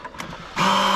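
A nitro RC car, an XRAY NT1 with a JP FX12 engine, idles with a low, steady buzzing drone that starts abruptly partway through and carries on loud and close.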